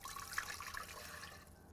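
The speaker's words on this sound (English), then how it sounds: "First, we're going to add 2 cups of just water," Two cups of plain water are poured into a large cooking pot as the first wet ingredient for a beef rib marinade, giving a steady, close splashing stream that runs the whole time and thins near the end.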